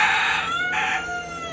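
A Kaliyar breed rooster at a breeding setup gives one short, loud crow close by, a bright harmonic call that rises and then tapers off.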